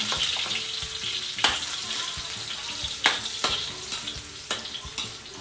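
Garlic sizzles steadily in hot cooking oil for squid adobo, with a continuous crackling fry broken by a few sharp stirring clatters of a utensil against the pan, close and fairly quiet, with no voices.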